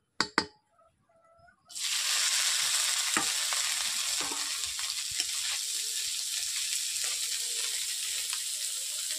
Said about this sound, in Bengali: মাছগুলোকে বেশ ভালো করে আমি তেল দিয়ে দিয়েছি, একটু ভালো করে ভেজে নিচ্ছি।